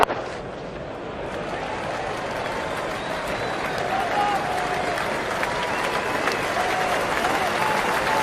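Cricket crowd applauding Steve Smith's innings against England, a steady wash of distant clapping from parts of the stands that carries on for several seconds, with commentary murmuring underneath.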